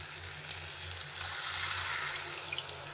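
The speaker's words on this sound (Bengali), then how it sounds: "আমি পানি দিয়ে দিই" Water pours into a hot pan of koi fish curry, a brief rushing splash rising over the background sizzle, close by and fairly quiet.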